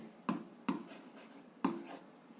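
Pen strokes on paper while working an algebra exercise: three short, close scratching bursts with brief pauses between them, no voices.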